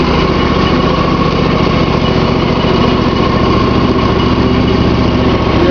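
A riding lawn mower with a 46-inch deck runs close and loud, its small engine giving a steady, unbroken drone with no talking over it.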